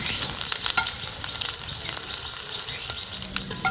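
Semolina (suji) frying lightly in a pan, giving a soft, steady sizzle with occasional stirring scrapes and small clicks, close and fairly quiet throughout.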